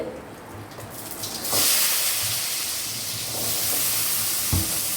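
Onion and garlic hit a hot pan and a loud, broad sizzle swells in after a quieter start, hissing steadily with a few faint knocks of a utensil near the end.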